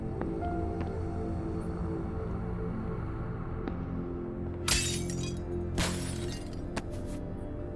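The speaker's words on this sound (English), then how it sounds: "We need to find something to break the glass." Glass shatters twice in the video game Once Alive, two bright crashing bursts a second apart over a steady low ambient drone.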